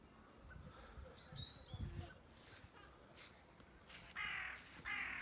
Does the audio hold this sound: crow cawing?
yes